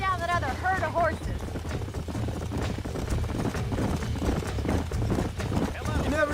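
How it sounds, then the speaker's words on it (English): Wild horses in the video game Red Dead Redemption gallop as a herd, with rapid clip-clopping hoofbeats that run throughout, mixed under voices and game sound. "Let's see if we can track down that other herd of horses."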